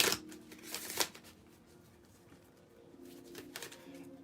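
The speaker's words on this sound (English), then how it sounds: "let's shuffle the runes cards" Rune cards being shuffled by hand, with brisk riffling bursts at the start and again near the end separated by a quieter pause, close and fairly soft.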